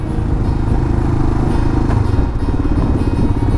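Royal Enfield Himalayan single-cylinder motorcycle riding on the road, its engine a steady, loud, low thumping drone with a slight rattle, heard alone without talk.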